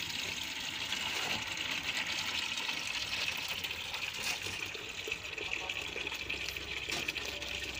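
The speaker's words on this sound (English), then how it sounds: "So it goes down the drain straight, it does not spin." Water draining from a basin at the equator in Uganda, a steady faint rushing and gurgling flow that runs evenly throughout with no other sounds.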